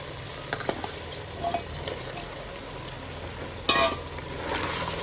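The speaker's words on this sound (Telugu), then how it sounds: "చికెన్ వేసేసి మంచిగా ఇది కూడా ఫ్రై చేసేసుకోవాలి మంచిగా నూనెలో. ఇప్పుడైతే ఇలా ఆలుగడ్డలు వేసేస్తున్నా" Chicken and potatoes fry in oil in a pan, a steady close sizzle with occasional sharper crackles and stirring scrapes, no voices over it.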